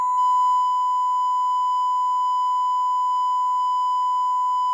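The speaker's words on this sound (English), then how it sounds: "That's my cell phone." A cell phone emits one loud, continuous, steady electronic beep tone, unbroken and alone for nearly five seconds.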